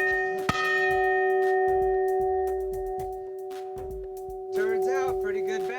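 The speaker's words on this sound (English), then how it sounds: "that was the loudest bell I've ever heard" A ship's bell aboard the battleship USS Iowa rings loud and close, a sharp ringing strike followed by a long sustained tone, with people talking and laughing over it.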